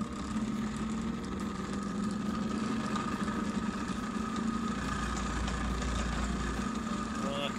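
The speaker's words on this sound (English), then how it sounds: "I can increase the speeds on these motors" Small electric motors spin discs in a magnetic-field demonstration, producing a steady mid-range hum with a constant tone band, continuous and moderately loud, with a speaking voice over it throughout.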